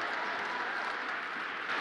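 An audience clapping together, a dense continuous wash of applause that stays steady and fairly loud for under two seconds, with no one speaking over it.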